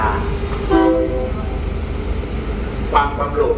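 An express train departs Ban Pong station in Thailand, with a loud, continuous rumble, tonal horn-like blasts near the start and end, and a station announcement heard over it.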